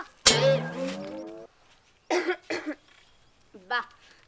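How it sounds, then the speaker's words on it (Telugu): A person coughs in a long harsh fit, followed after a pause by a few shorter vocal bursts, close and loud against near silence. "బాగా దగ్గులెత్తుంది"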